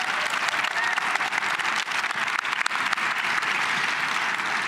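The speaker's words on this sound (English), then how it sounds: "Give them another round of applause." Audience at a sports legacy symposium gives a panel another round of applause, with dense, even clapping from many hands filling the room at close range and steady for several seconds.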